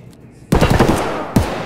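Bursts of gunfire in a shooter video game, a sharp loud onset followed by a rapid dense volley and a second heavy shot near the end, close and loud with no talk.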